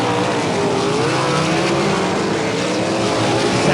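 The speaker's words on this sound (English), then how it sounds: "coming around out of 3 and 4, it'll be Tom Hoopinen with the win here in qualifying race number 4" 360 sprint cars racing in a qualifying heat at Ohsweken Speedway, engines roaring loud and continuous as the pack comes out of turns 3 and 4 toward the line.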